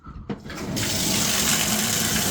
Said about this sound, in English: Okay, I'm gonna turn on the water.